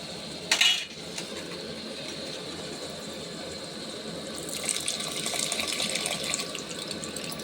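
Tamarind juice is poured into an egg curry in the pan: a brief clink near the start, then a steady splashing pour that swells louder toward the end, with no talking.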